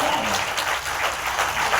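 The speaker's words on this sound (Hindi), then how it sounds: "तालियां कमजोर है।" Clapping from the audience at a Hindi comic poetry recital in Indore, a brief, moderately loud round of applause mixed with some voices from the crowd.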